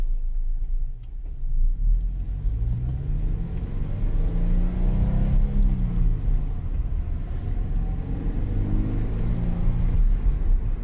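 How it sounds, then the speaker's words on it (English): A Toyota GT86 engine fitted with an HKS Premium Suction intake kit and sound tube generator rumbles steadily as it revs, its intake tone rising and falling in sweeping pitches throughout, loud and close with no talking. "You can already hear kind of the intake noises are coming on a little bit quicker with that sound tube generator"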